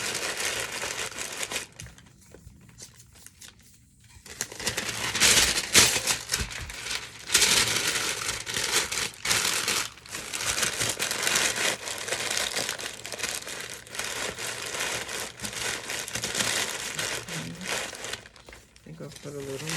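Tissue paper being crumpled and stuffed by hand into a gift basket, giving a steady crinkling rustle that runs through most of the stretch and pauses briefly near the start.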